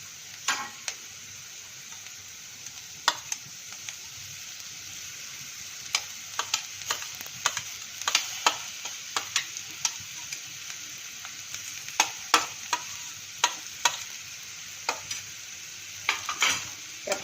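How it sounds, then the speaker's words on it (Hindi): Capsicum frying in a pan for masala paneer bhurji, a steady close sizzle broken by frequent sharp clicks and scrapes of a spatula stirring against the pan, with no talking. "कैप्सिकमटा भी सेमती टिके भाजी दबा।"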